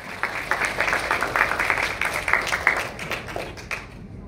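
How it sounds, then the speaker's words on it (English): An audience at a talk event breaks into a round of applause, with dense, lively clapping that tapers off toward the end. "Let's give him a big round of applause."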